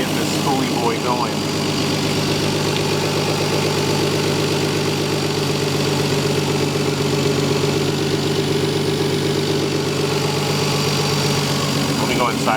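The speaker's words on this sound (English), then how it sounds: "but it's idling stable." A Lexus IS300 fitted with a CX Racing turbo kit idles steadily and evenly, a continuous close engine hum with a faint voice briefly audible.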